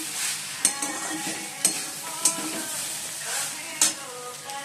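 Chire pulao, flattened rice, being stir-fried in a pan: a continuous close sizzle broken by several sharp scraping clinks of the spatula against the metal, about four distinct strokes.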